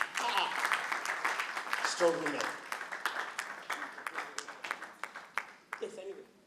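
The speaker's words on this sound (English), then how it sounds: "Please, another round of applause for her" Scattered applause from an audience at a talk on marriage, individual claps distinct and moderately close, with a voice speaking briefly over the clapping.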